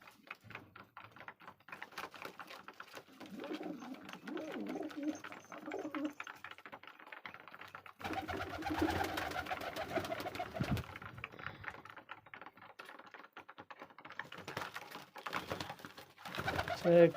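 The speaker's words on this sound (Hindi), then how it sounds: "कबूतरों का बच्चा है गाइस।" Young pigeons coo in soft, rolling bursts nearby while being held on the hand, with scattered clicks and rustling, and someone talks intermittently between the calls.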